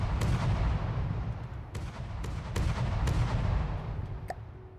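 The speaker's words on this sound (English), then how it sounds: "Right, all guns are firing as intended." Main guns firing in the naval warfare game From the Depths: a dense, continuous rumble of heavy booming shots with sharp cracks recurring roughly every half second, loud and close, without speech.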